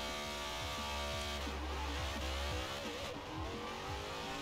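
Zenvo TSR-S supercar in Forza Horizon 4 launching hard off the line with launch control, its engine revving high and climbing steadily through the gears, loud and continuous with a brief shift dip.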